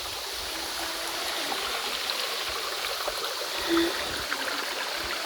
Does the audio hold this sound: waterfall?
yes